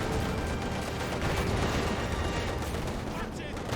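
In Company of Heroes 2, an airborne guards strafing run tears through a battle as a dense, continuous roar of rapid gunfire and explosions, loud and unbroken, with a voice talking over the top.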